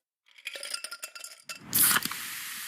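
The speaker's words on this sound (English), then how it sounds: "You hear that? That's the sound of Pepsi Zero Sugar." A Pepsi Zero Sugar bottle gives a quick run of light glassy clinks, then a loud hissing burst of fizz that settles into a steady carbonated sizzle.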